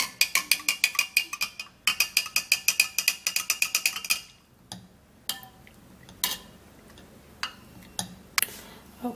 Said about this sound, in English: we're gonna give a little time and stir the honey so that the honey could